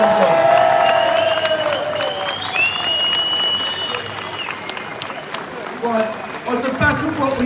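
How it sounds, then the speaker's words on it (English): At a protest rally against grooming gangs, a crowd breaks into applause and cheering for survivors, with voices calling out over the clapping. "So give them a round of applause,"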